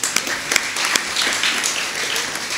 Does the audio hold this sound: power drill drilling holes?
no